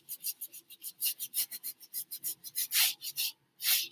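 Paintbrush scrubbing oil paint onto canvas for a tropical seascape, a close run of quick rasping strokes in an uneven rhythm, each stroke a short dry scratch, with a brief pause near the end and no talking.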